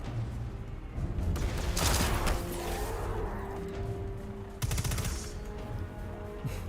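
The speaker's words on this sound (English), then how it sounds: "Why are you shooting me?" Gunfire in the video game Destiny 2: Beyond Light, with rapid automatic bursts and sharp single shots over a low rumbling game soundscape, loud and close.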